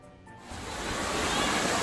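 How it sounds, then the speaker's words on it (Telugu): Sarugudu waterfalls, a dense roaring wash of falling water that swells from a softer start into a steady, close, loud rush with no voices. "సరిగ్డు వాటర్ ఫాల్స్ వచ్చాం."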